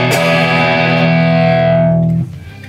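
Woodstock HH Tele MN electric guitar strummed through heavy distortion, a thick sustained chord ringing loud and alone for about two seconds before being choked off abruptly.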